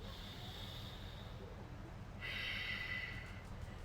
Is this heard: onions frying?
no